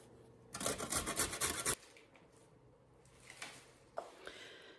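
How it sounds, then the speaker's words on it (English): Carrots are grated in a kitchen, one loud rapid rasping burst of strokes followed by a couple of fainter scrapes against quiet background. "I'm gonna go ahead and start grating my carrots"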